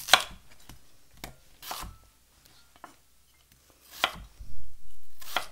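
A knife cuts potatoes into roughly 2.5 to 3 cm chunks on a board, with sharp irregular chopping thuds and a few scraping slides, close and moderately loud, and no one talking.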